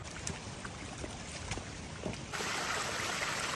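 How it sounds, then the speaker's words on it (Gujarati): A small waterfall beside a mountain trail on the Rudranath trek gives a constant rushing splash of moderate level that grows fuller partway through, with no voices. "રસ્તામાં છે ને મસ્ત નાના નાના વોટરફોલ આવે છે"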